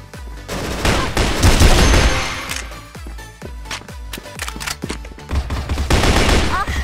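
Rapid gunfire from the online shooter CrossFire, with an FN FAL and machine guns firing in dense overlapping bursts and single cracks, loud and close, steady throughout with a faint voice underneath.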